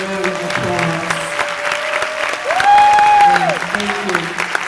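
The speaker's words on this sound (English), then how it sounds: "Let's give all of our speakers this evening a round of applause" An audience at an adult-class commencement ceremony applauds the evening's speakers with steady, sustained clapping that fills the hall, while a held musical tone and voices run underneath.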